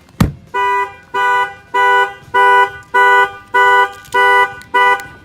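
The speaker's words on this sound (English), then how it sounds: "Shut off the alarm." The shock-sensor alarm of a 2017 Mercedes C43 blares in loud, regular, evenly spaced horn-like pulses, about eight in a row after an opening knock.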